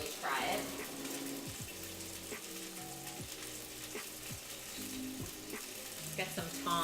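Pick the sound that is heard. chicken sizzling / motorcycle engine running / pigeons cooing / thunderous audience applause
chicken sizzling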